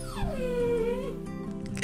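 A stray dog in an animated cartoon lets out a long, loud whimpering howl after being hit, its pitch sliding down and then wavering, ending in a short burst of noise.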